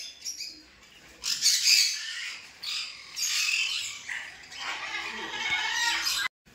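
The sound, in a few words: parrot squawking in a cage at a bird farm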